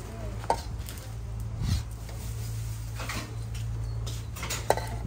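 Knife chopping food on a cutting board in a home kitchen, a steady run of light, quick, close taps with a few sharper knocks mixed in.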